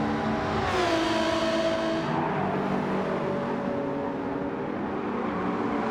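A BTCC-style race car in Gran Turismo 7 with its engine revving up close, the note climbing as it accelerates and then settling into a steady roar. Other cars are faintly audible behind it.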